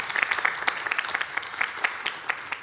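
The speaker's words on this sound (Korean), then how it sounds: "박수 부탁드립니다" Applause from an audience at a public presentation event, a modest scattering of individual claps in a small room, fairly quiet and steady across a few seconds with no talking.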